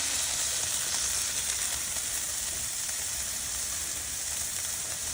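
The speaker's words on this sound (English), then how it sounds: "Get that sear on there." Smash burger patties searing on a Blackstone flat-top griddle, a steady, loud, continuous sizzle with no talk.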